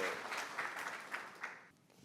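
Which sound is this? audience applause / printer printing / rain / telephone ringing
audience applause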